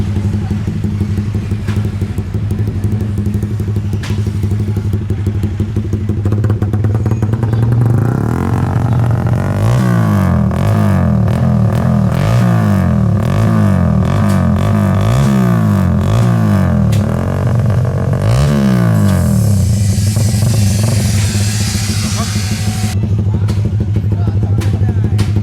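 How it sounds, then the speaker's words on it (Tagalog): A Yamaha Raider motorcycle fitted with a VMAX BOA exhaust revs in repeated loud, throaty bursts over a steady idle, then settles back to idling. "Pina-soundcheck nga sa atin yung isang VMAX BOA na nakakabit dito sa Raider."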